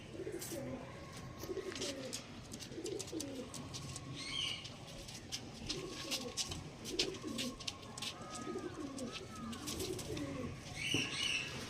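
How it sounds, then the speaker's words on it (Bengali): Black diamond pigeons, including a male, coo repeatedly in a close series of rolling calls, with brief bursts of wing flapping and faint chirps around them. "এটা নর পায়রা"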